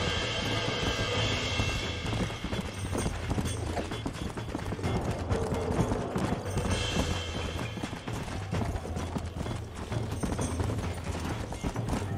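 Horse hooves clip-clopping in a steady trotting rhythm in Red Dead Redemption on PS3, running continuously and fairly close under a low rumbling game backdrop with other ambient noise.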